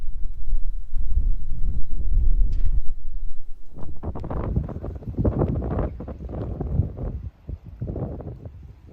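Strong storm wind buffets the microphone aboard a narrowboat in heavy, continuous low rumbling gusts, with rustling and thumping bursts as the storm blows.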